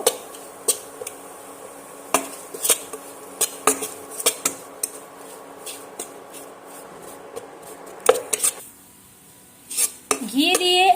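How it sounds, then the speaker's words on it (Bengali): Gram flour being roasted in ghee in a pan while making semolina sandesh, a utensil repeatedly scraping and clinking against the pan in irregular strokes, close up, with a brief louder clatter near the end. "বেসনটা আমি এই ঘিয়ের মধ্যে দিয়ে দেব দিয়ে আমি বেসনটা ভালো করে"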